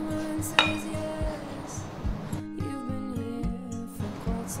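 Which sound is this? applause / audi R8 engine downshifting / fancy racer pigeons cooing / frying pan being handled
frying pan being handled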